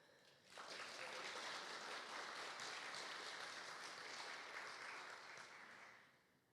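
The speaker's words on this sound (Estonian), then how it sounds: "Et ma arvan, et on asjakohane temale ka suur aplaus." An audience breaks into sustained applause, a dense even wash of clapping that starts abruptly, holds steady for about five seconds and then fades.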